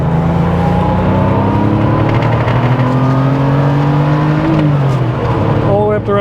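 The engine of a 1988 Porsche 911 Targa revs loudly toward red line while driving, its tone climbing steadily before dropping off near the end, heard from inside the car with a low road rumble beneath.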